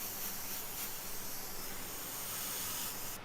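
An airbrush sprays paint onto a T-shirt in a soft, steady hiss that stays even and close for a few seconds with no talking.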